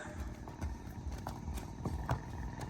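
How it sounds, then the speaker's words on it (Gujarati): A mare's hooves clip-clop in a steady walking rhythm with a rider in the saddle, the clear close hoof strikes repeating over a low outdoor background. "કિશાભાઈ ઘોડી ઉપર બેઠા હે"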